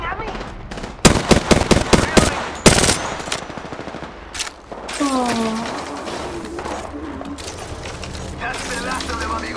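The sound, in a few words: gunfire in the video game Apex Legends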